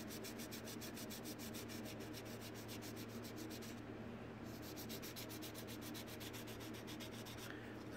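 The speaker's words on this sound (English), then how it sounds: "Now I'm just lightly sanding this too. I'm not putting any pressure on it." Light, rhythmic sanding strokes rub steadily back and forth over primer on a hard body, with a brief pause partway through before the even scraping resumes.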